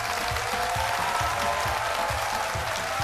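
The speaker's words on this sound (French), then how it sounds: "elle est Augusta Palinfo, que je vous demande d'applaudir très fort." A television studio audience on a French-language midday show applauds a guest actress, a steady mass of clapping with a rhythmic low musical beat pulsing underneath throughout.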